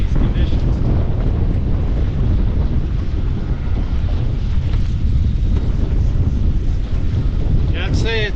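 Strong wind of about 15 mph with 30 mph gusts roars and buffets the microphone while fishing, a dense, rushing noise that stays loud from start to finish.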